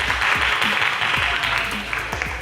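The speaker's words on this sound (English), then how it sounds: "A round of applause for Dansol High School." An audience at a Dansol High School quiz show gives a short burst of steady applause, a dense patter of many hands clapping close by.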